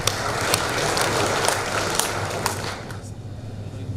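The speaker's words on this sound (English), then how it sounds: "Ladies and gentlemen, please give a warm applause for Dr. Satur." A conference audience applauds a speaker: brisk, fairly loud clapping from a seated crowd that fades after about three seconds, leaving only a few scattered claps.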